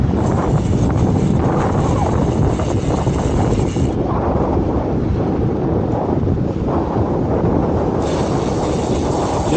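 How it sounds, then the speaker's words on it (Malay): Strong wind buffeting the microphone on the way to the beach, a loud, continuous roaring rumble with no voices heard. "Kita tahan angin."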